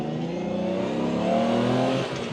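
Lamborghini with a 5.2-liter Countach V12 and Diablo injection pulls hard under acceleration, its engine note rising in pitch as heard from inside the car, loud and continuous with no talking.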